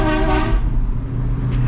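A deep, loud ship horn fitted to a Camaro car blares and then fades into a low rumbling drone, ending with a faint click.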